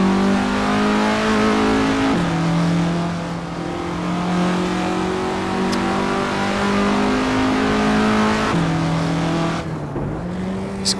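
Classic Formula Ford race car in the Assetto Corsa racing game, a close, loud engine droning steadily with rising pitch through gears and a few shifts, no talk.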